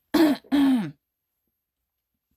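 Two quick, gravelly throat-clearing rasps up close, followed by silence.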